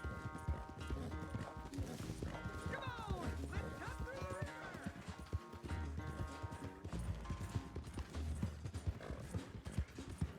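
Steady clip-clop of horse hooves in Red Dead Redemption 2 at a riding gait, continuous and moderately close, with a horse snorting and faint talk.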